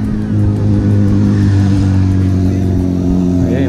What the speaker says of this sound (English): Ayun yung motor, oh. Big bike na yun.